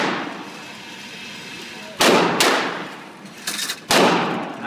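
Glock 26 pistol fired on a range, four sharp gunshots with irregular spacing, two of them close together, loud against a quiet outdoor background.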